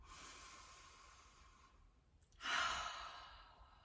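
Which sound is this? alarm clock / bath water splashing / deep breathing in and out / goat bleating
deep breathing in and out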